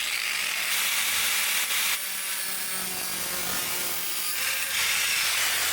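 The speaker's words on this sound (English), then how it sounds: "I'm going to grind off the brake line." An angle grinder cuts through a car's brake line, a steady, harsh high-pitched grinding whine that holds for several seconds, with slight shifts in pitch as the cut goes on and no talking.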